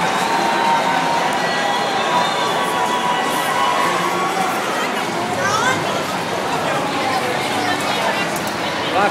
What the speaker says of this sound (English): Oh, you can hear the crowd.